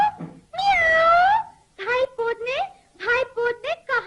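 A narrator telling a Hindi children's story imitates a cat with a long drawn-out meow, followed by a run of shorter meow-like cries in an animated voice. It is close and clear, with no background.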